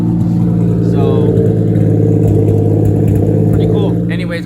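2JZ-swapped IROC Camaro engine with a newly finished exhaust, a steady loud rumble holding throughout with slight rev changes and brief talk mixed in near the end.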